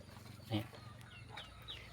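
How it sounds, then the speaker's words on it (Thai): Free-ranging chickens and ducks forage on a small farm, with a brief cluck standing out over a quiet, faint outdoor background. "เราก็ปล่อยเป็ดปล่อยไก่ให้เขาหากินธรรมชาติครับ"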